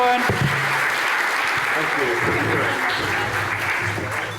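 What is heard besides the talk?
conference audience applause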